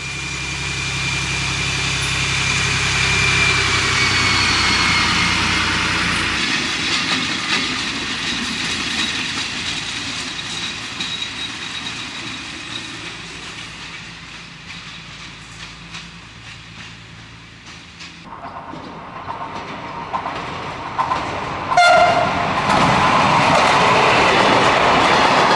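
An SNCF X4630 Caravelle diesel railcar runs on a line in the Lyon region. The engine drones steadily under rolling wheel rumble, swelling, then easing before a sharper, brighter passage near the end.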